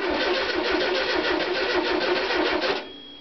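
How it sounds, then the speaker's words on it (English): An old air-cooled VW Beetle camper engine being cranked on a start attempt, a loud close rhythmic churning that runs for nearly three seconds and then cuts off into quiet. "we're just interested in a noisy, rattly, good old beetle engine"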